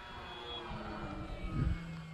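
An FMS Pitts 1400mm RC model airplane flies overhead, a faint, distant motor whine that holds steady and then swells briefly toward the end, heard alone with no talk.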